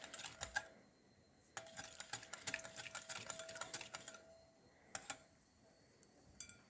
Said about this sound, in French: Et donc je continue et je fouette.